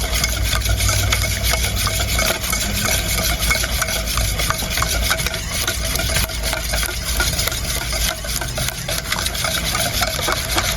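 Cake batter being mixed by hand in a bowl, a steady continuous scraping and stirring that runs throughout without pause, close and fairly loud, with no voices.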